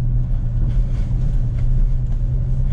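A Jeep Compass Limited climbs a muddy slope on tires not built for mud, its engine a steady, loud low rumble droning on throughout.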